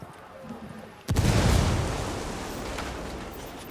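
A frag grenade in Ghost Recon Wildlands goes off after a quiet moment with one sudden loud boom, then a long rumbling, fading roar.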